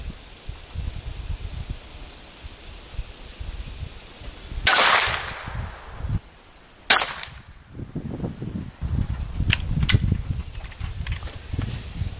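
A .22 Short rifle fired at a target 100 yards away outdoors gives a single sharp, fairly quiet crack, followed by a second sharp transient, over steady insect buzz and a faint outdoor background.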